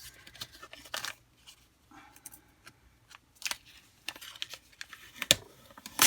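Transfer tape being cut with scissors during a Cricut Joy crafting session, giving soft scattered snips and crinkles of plastic sheet at close range, quiet and intermittent with pauses between cuts.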